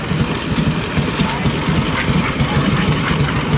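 A Harley motorcycle idles nearby at an AMCA Viking Meet in Minnesota, a steady low rumbling throb running throughout, with people talking over it.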